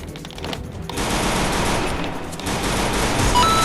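Rapid automatic gunfire from a shooting video game, a dense continuous burst that swells loudly after a brief quieter opening and keeps rattling to the end.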